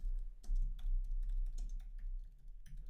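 Keystrokes on a computer keyboard, quick irregular clicks close by, alone with no talking.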